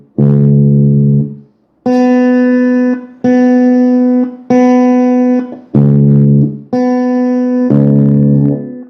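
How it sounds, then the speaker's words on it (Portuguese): An electric guitar with homemade humbucker pickups is played hard, struck in about seven loud sustained chords and notes with brief gaps between them, close and clean, no voices. "E o som é esse. Tocando forte aqui na guitarra."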